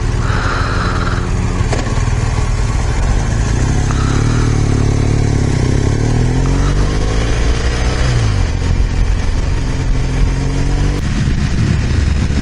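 A motorcycle rides a dark evening commute road with wet patches, its engine droning loudly and steadily with rising and falling pitch through gear changes, over constant wind rush and road noise, with no talking.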